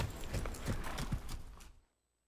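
Horse hooves clip-clop at a steady trot in the Western video game GUN, with a brief neigh mixed in, loud and close, then cutting off abruptly into silence.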